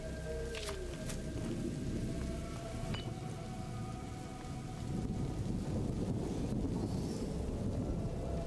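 Storm in A Plague Tale: Innocence, with steady rain and deep rolling thunder swelling louder toward the end, plus a few faint sharp ticks and tones over the wash; no one speaks.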